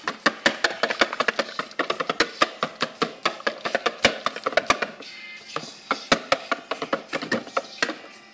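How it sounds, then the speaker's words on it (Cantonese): Flour batter seasoned with salt and sugar is stirred briskly in a bowl, giving a fast, steady run of close, sharp tapping clicks with no voices. "攪勻佢啦。"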